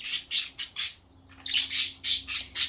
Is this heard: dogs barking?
no